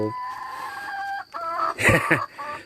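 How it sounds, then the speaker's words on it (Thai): A rooster clucks nearby in a few short, throaty bursts with brief pauses between them. "พอดีมีพ่อไก่นะครับพ่อไก่เขา"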